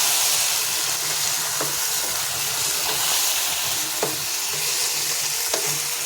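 Tomatoes fry in oil in a pan on a gas stove as they are stirred, producing a loud, steady sizzle broken by a few sharp spoon scrapes against the pan, with no voices.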